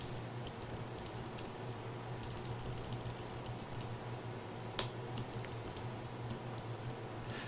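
Steady, soft clicking of computer keyboard keys as someone types a C program, an even patter of keystrokes close by with one sharper tap midway.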